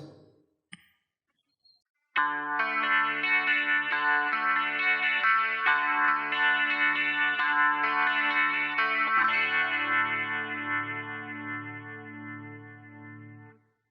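Sustained electric guitar chords, played through a Line 6 Helix with a Variax, swirl with a slow rotary wobble and 35% reverb, ringing for several seconds before fading out.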